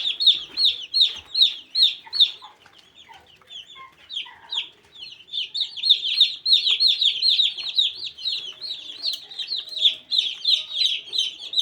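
Newly arrived white broiler chicks peep in a dense, continuous chorus of high chirps, steady and close, with a brief lull before growing busier again.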